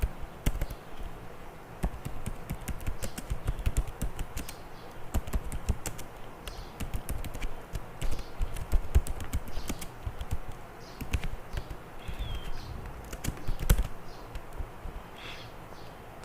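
Java code is typed on a computer keyboard, quick irregular clicking keystrokes in bursts and pauses, close up and fairly quiet, running throughout with no talk.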